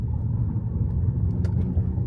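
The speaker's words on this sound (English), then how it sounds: "Still not used to an EV, you still want a bit of engine noise." A 2024 Ford Mustang Mach-E Premium electric car plays a synthetic engine note while driving, a steady low rumbling drone that stays close and constant without a break.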